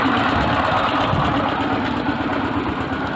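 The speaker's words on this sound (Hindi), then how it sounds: "भाई एक तो साउंड बहुत आती है इंजन की वीडियो में" The motor of a roadside sugarcane juice stall runs close by, a loud steady mechanical drone with an even rhythmic chatter and no pauses.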